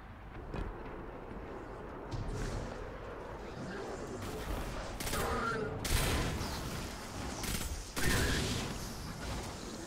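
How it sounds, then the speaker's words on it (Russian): Gunfire in the video game Destiny 2: dense bursts of shots and booming blasts crackle continuously over a rumbling battle background, with the heaviest reports landing near the middle and end. "Двойной, тройной выстрел."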